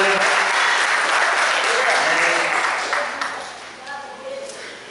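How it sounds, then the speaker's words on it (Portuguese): A church congregation applauds in a thick, steady wash of clapping that gradually thins and fades toward the end, with a few voices faintly audible beneath. "Aplauda o Senhor."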